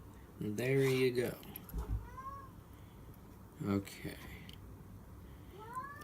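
Pet cat meowing to be let out indoors, two or three clear meows spread across the moment with a faint jangle nearby, while a person says a brief word.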